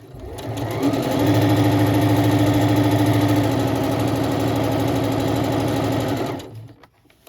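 A sewing machine stitches around the edge of a cloth napkin in a steady, continuous whir lasting about six seconds, then stops as the presser foot lifts for a pivot; the motor is close and loud, with no talking.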